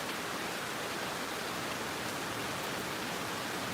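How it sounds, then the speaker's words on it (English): Rain falls as a steady, even hiss with no pauses or other sounds on top of it. "I don't think the rain will stop in 5-10 minutes."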